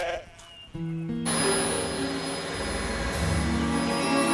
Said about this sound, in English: I can't eat with all these sheep looking at me.